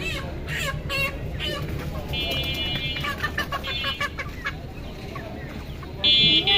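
Sonali chickens cluck at a busy poultry market, the calls coming in short bursts over steady crowd noise and nearby talk.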